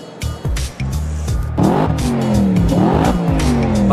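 An Audi RS5 from 2010 with a V8 engine, roaring loudly close by as it revs and accelerates through rising gear pulls, with brief tire noise, no talk.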